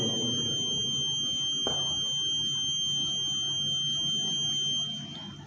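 Alarm marking the time of the Dhuhr prayer, heard indoors as steady, unbroken high-pitched electronic tones that hold for several seconds before fading near the end.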